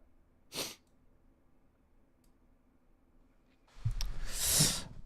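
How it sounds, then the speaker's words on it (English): Two sneezes from one person nearby, a short sharp one early on, then after a quiet pause a louder, longer sneeze with a breathy burst. "cannot stop sneezing"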